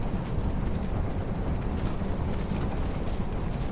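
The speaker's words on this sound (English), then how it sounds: "who's shooting fireballs at me?" Fiery roaring blasts from fireballs launched in Dark Souls II, a dense continuous rumble of eruptions and bursts filling the whole stretch at steady loudness, with no talking.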